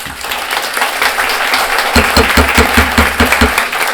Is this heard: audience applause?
yes